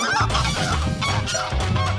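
Geese honking loudly and continuously at a spot in the Netherlands, several overlapping calls close by with no talk over them.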